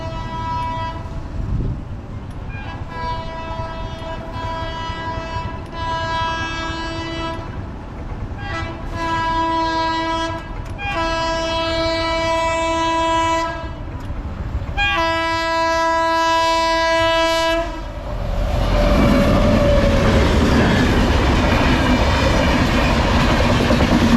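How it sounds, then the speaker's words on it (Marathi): A train rumbles past a closed level crossing with repeated loud horn blasts, several long harmonic honks in sequence, followed by a rising roar of wheels and carriages close by. "नशीब चांगलं आहे की ट्रेन आली वेळेत"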